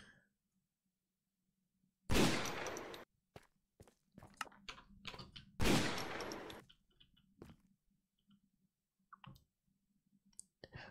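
A gun fires in Minecraft in two short, loud bursts of rapid shots a few seconds apart, with scattered clicks and faint taps in the quiet between them.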